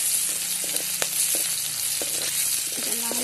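Singhi fish frying with garlic and chili gives a loud, continuous sizzle and crackle in hot oil. Occasional clinks of a utensil stirring the pan cut through the steady hiss.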